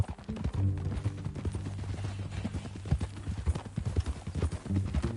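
A horse's hooves clip-clop in steady rhythm in the Red Dead Redemption 2 video game, close and clear over a low background hum.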